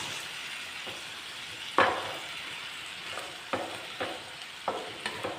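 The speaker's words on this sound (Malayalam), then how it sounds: "ഇതും കൂടെ ചേർത്ത് നന്നായിട്ടൊന്ന് ഇളക്കിയെടുക്കാം" Squid roast sizzles steadily in a pan over a low flame, with a few distinct scrapes and clacks of a spoon stirring it, the frying hiss continuous and close underneath.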